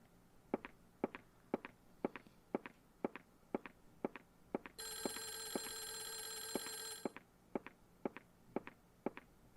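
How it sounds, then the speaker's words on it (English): A telephone in the Clock Tower video game rings in a steady electronic burst for about two seconds in the middle, set against a regular, evenly spaced tapping of footsteps that runs through the whole passage. "Shut up, phone!"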